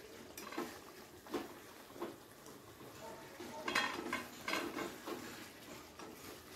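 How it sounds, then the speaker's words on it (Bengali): Fish curry stirred gently in a wok on a low flame, soft repeated spoon scrapes and clinks against the metal at an irregular pace over a faint simmer, quiet and close, no talking. "মাছগুলো যাতে কড়াইয়ের গায়ে লেগে না যায়, তো সেই কারণে একটু নেড়ে দিচ্ছি"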